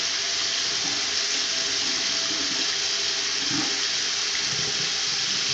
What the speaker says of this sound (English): Seems like the drain on this sink is draining okay